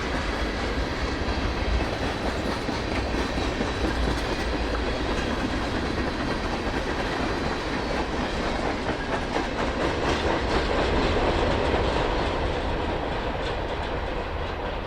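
Union Pacific train rolling past on Donner Pass in winter, a loud, continuous rumbling roar with steady clickety-clack of wheels over rail joints, close and sustained throughout, with no talk.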